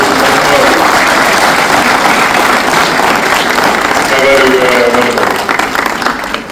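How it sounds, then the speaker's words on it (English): An audience at the Kula Awards 2026 in Fiji applauds visiting students, a loud, steady wash of clapping with voices and cheers rising through it before it tapers off. "Please give a round of applause to"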